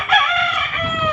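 A rooster crows once, close and loud, a harmonic drawn-out call lasting about a second.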